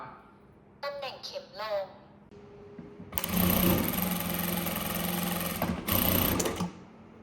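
A Shunfa A8F computerized sewing machine runs in a steady, loud mechanical whir for a few seconds, following a brief stretch of someone talking over quiet room tone.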